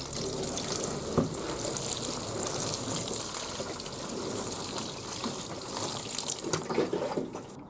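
Water splashing steadily from a watering can or hose onto newly planted broad beans in a garden bed, a continuous close hiss and patter with no talk.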